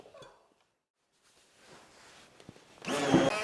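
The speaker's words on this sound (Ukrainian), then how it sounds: "тепер проб'ю це все блендером ще раз" A kitchen blender whirs loudly through a cheese mass with cooked semolina for a final half second, coming in after faint clatter and quiet shuffling.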